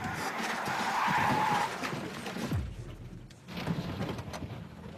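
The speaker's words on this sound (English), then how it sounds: "he skids out of control by hitting the brake" A car in a driving-test challenge skids out of control after hard braking, a loud rushing tire-and-engine roar that drops off abruptly midway before traction noise swells again.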